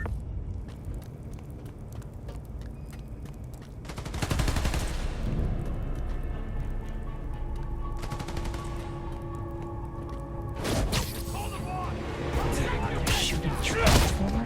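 Gunfire in the video game Spider-Man Miles Morales comes as loud, close bursts of rapid shots, with quieter game sounds and voices between the volleys.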